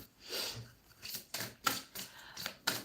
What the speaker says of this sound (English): I feel like the shuffling is very smooth for group 1